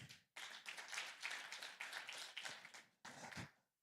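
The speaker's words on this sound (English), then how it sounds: "let's give him a hand of applause." An audience at the ICERA 2025 conference claps for a presenter, a quiet burst of applause that pauses briefly near the end and then resumes for a moment.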